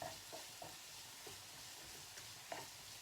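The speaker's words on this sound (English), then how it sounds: "stir it along with the onions" Ginger and onions get stirred in a pan for a chicken and potato curry, a soft background sizzle broken by a handful of light spoon scrapes at irregular intervals, quiet and close.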